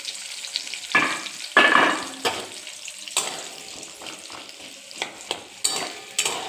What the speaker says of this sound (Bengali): পেঁয়াজগুলো একটু বড় বড় করে কেটেছি, একটু ভাজা হোক